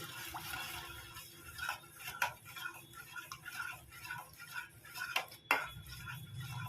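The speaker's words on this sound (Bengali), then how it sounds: "আমি ভালো করে মিক্স করে নিচ্ছি" A spoon clinks and scrapes against a vessel while bael sherbet with roasted cumin powder and black salt is stirred, irregular metallic taps over a soft swirling of liquid.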